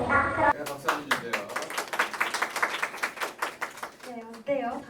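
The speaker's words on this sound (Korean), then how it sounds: "그럼 박수 한번 주세요" Lecture audience clapping after a talk on ChatGPT in the classroom, a few seconds of fairly sparse, distinct hand claps from a modest group, with brief speech before and after.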